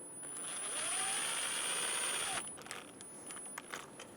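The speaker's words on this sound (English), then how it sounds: "Install the rotor screw." A brake rotor screw being driven in on a Chevrolet Sonic's rear brake, a quick close whir of a ratcheting tool lasting about two seconds, followed by a few faint clicks and light handling noise.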